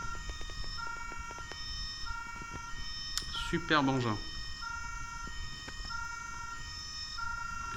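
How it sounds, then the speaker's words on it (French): Playmobil City Action police van toy siren (set 9360) wailing in a rising and falling sweep for about a second, fairly close, amid steady electronic tones and a brief spoken remark. "On va remettre les sirènes."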